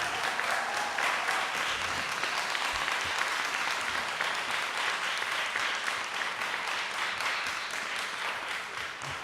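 A council meeting audience in Hartford, 2018, claps steadily in dense, sustained applause that holds at an even level for about nine seconds and eases off slightly near the end.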